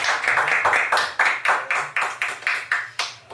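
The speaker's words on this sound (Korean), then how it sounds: "박수." A congregation at a Sunday church service claps together in a steady rhythm, about a dozen evenly spaced, crisp claps in unison, fairly close and moderately loud.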